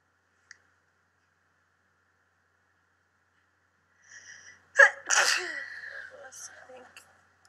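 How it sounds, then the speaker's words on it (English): A close, forceful human sneeze erupts after a soft inhaling buildup, followed by a trailing breathy tail, in the Big Brother 20 house; the room is otherwise nearly silent. "I'm gonna start sneezing really bad."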